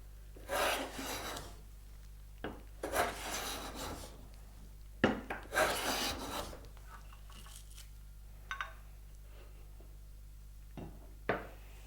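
Hand plane pulling full-length shavings off a firewood-salvaged board while making winding sticks, a series of rasping strokes of about a second each with pauses between, close and moderately quiet.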